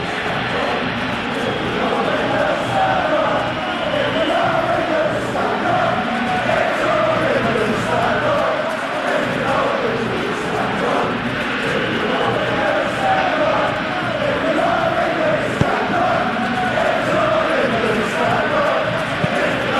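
Stadium crowd noise from the eFootball PES 20 football game during an England versus DR Congo match, a continuous dense roar of many voices that stays steady throughout and sits under nearly constant commentary.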